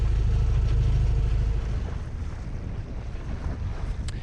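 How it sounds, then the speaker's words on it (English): A sailing yacht motors into a headwind in 42 meters of water, heavy wind buffeting the microphone and waves washing past, loud at first and easing slightly, with no voices. "We've given up and we're motoring because we got wind on the nose."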